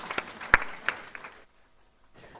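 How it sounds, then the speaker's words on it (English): A panel audience at the Connected Summit 2022 tech conference in Diani gives a brief round of scattered applause, a few sharp claps that fade into near silence within about a second and a half. "let's give a round of applause for our distinguished panelists"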